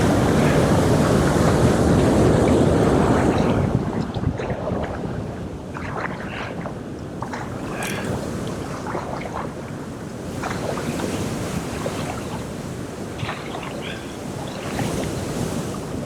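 Strong wind roaring over choppy water on a solo Arctic canoe trip, a loud continuous rush with heavy microphone buffeting, easing slightly after a few seconds, with splashing and wave noise throughout.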